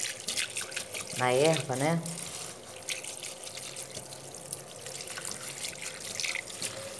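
Tap water runs steadily into a sink while bitter melon herb is washed, a continuous close hiss and splash with someone speaking over parts of it.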